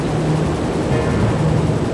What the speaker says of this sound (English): A county fire department rescue helicopter was quickly dispatched to the scene.